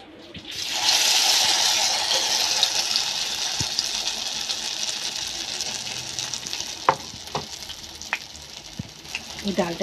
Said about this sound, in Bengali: এইভাবে একটা একটা করে আমি ভেজে নেব প্রত্যেকটা বেগুনিকে